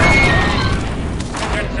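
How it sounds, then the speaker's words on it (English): An explosive charge detonates in the Star Wars Republic Commando video game, a loud, full-bodied boom that rolls on as a sustained rumble for nearly two seconds. "The charge is set and ready to detonate."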